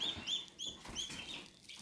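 A Polish hen or chicken in a garden clucks softly in a few short, faint calls over quiet outdoor background noise, with no voices.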